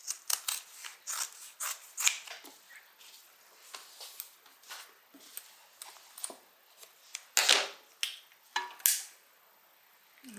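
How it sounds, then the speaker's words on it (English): Scissors snip through excess fabric while a tote bag is being made, a run of quick, close, crisp cuts in uneven rhythm with brief pauses between bursts. "You can go ahead and cut off any excess."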